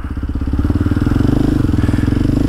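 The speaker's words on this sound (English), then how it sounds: "motor's been running for a few minutes" A Kawasaki KLX 230SM motorcycle engine runs close by after an O2 sensor delete, idling with a steady, rapid thumping pulse that swells slightly partway through.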